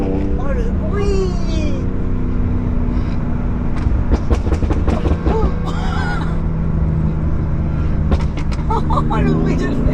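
Engine noise from a modified BMW M3, a loud continuous drone from inside the car, under excited speech and laughter from the occupants.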